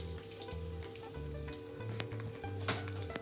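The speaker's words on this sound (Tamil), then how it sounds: "இப்போ சம்பளுக்கு மிளகாய் வாட்டி எடுக்க போகிறேன் எண்ணெயில் கொஞ்சம்" Dried chillies and curry leaves frying in oil for a spicy sambal, a close, steady sizzle with crackles and pops throughout and a low hum underneath.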